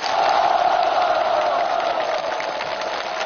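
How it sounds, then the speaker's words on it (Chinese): A large audience at a televised military cultural gala gives warm, sustained applause mixed with cheering to welcome the second group of young soldier guests, a dense, even roar that eases slightly near the end. "让我们以热烈的掌声有请这些年轻可爱的战友们"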